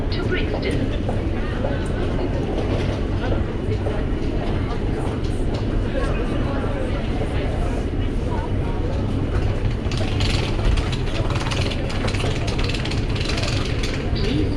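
London Underground Victoria line train running toward Brixton, a loud continuous rumble and rattling of wheels and carriage mechanisms, steady throughout, with an automated announcement voice heard over it.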